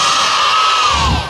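Scores of children gathered for a record attempt in Dharmasraya, Sumatra, yell a sustained E in unison, a dense, loud shout that tapers off briefly at the end.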